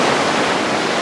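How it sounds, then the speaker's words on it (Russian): Strong waves churned up by passing boats and ships at Bang Bao beach on Koh Chang, Thailand, rushing as a loud, steady wash of surf close by, with no voices. "Здесь такие волны идут сильные из-за того, что очень много проезжает катеров"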